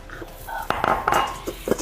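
A kitchen knife chops and breaks roasted walnuts on a board, giving a quick series of sharp clicks and cracks with a few scraping taps, close and fairly crisp, under quiet background noise.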